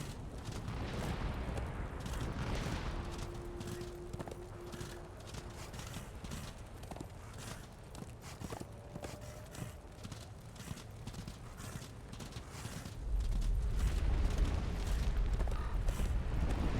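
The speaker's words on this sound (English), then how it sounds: "I guess this is no place for a horse." Horse hooves clip-clop in Darksiders II, a steady run of hoofbeats over rumbling game ambience that grows louder toward the end, with no talking.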